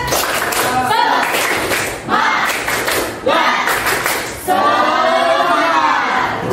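Rhythmic group spirit clap during a class closing: repeated bursts of unison clapping separated by short gaps, ending in a shouted group chant, loud and close with voices throughout.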